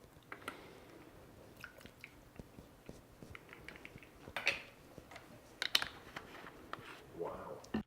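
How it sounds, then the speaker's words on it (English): Keys on a computer keyboard are pressed during editing work, giving irregular, close, fairly soft clicks and taps. Some louder keystrokes stand out near the end. "I'm going to press O on the keyboard"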